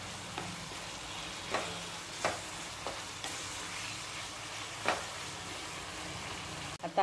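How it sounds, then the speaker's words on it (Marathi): Coconut ladoo mixture with sugar stirred in a pan as its liquid cooks down, a low continuous sizzle with occasional soft scrapes of the spoon, quiet and close with no talking. "पण सारखं हलवत राहायचं आहे, म्हणजे त्याला सुटलेलं जे पाणी आहे ते लवकर आटलं जाईल।"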